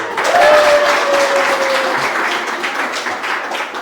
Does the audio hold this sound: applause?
yes